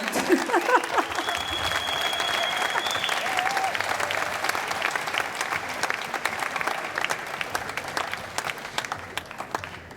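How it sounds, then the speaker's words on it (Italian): Audience applause fills an outdoor piazza in Jesolo after a wind band concert, a steady, dense clapping from a large crowd that holds for the whole stretch and eases slightly toward the end, with a few voices and cheers mixed in. "quindi facciamo un applauso"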